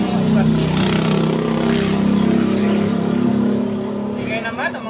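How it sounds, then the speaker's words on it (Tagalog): Motorcycle engines drone loudly and continuously close by while someone talks over them during outdoor root trimming of an adenium bonsai. The rumble is steady and eases slightly toward the end. "Ingay naman ang mga motor ko eh."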